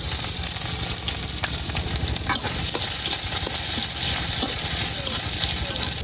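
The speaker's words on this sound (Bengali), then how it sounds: "এখন দিয়ে দিন পেঁয়াজ আর রসুন কুচি করে কাটতে রাখা" Chopped onion and garlic frying in oil for a lentil dal, giving a dense, continuous sizzle with a spatula stirring close by.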